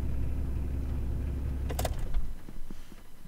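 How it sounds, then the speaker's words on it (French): A Nissan Cedric's idling engine rumbles low and steady, then cuts out abruptly after a couple of seconds, followed by a few faint clicks and a short settling stretch in the quiet cabin. "On dit rien, on va faire l'arrêt du moteur."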